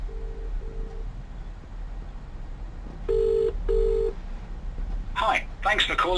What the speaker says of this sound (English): Just ringing.